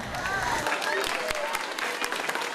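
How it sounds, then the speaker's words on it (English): Students walking into a middle school cafeteria are met with steady, close applause from a crowd of many hands clapping, with a few voices mixed in. "receiving applause when they enter the cafeteria"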